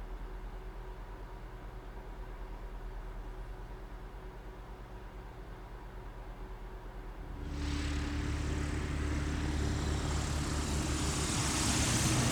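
Steady airport ambience from Grand Theft Auto Online: a constant low engine drone and hiss of aircraft, swelling louder and brighter partway through as a jet or prop engine spools up nearby, with no talking.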